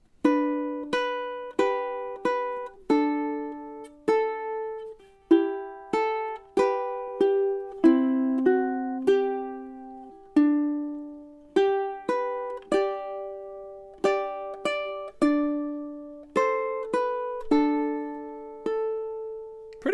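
Waltzing Matilda is played as a chord melody on a ukulele using Travis picking, with steady alternating plucked notes and melody tones ringing clearly alone for the whole passage.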